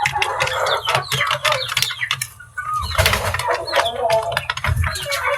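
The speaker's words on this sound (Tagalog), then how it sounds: "Parang dalawa yung baby stag dito." Young roosters, baby stags, cluck in a close, busy burst of short repeated calls with a few louder squawks over a low background rumble, while someone talks intermittently among them.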